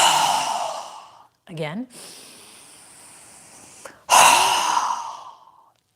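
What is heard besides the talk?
strong exhale through the mouth during yoga breathing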